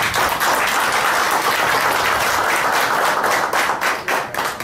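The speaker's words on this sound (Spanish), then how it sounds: "para que pida un aplauso" Dense applause fills a formal human rights lecture event on the Istanbul Protocol as a speaker is welcomed, steady and loud throughout with no pauses.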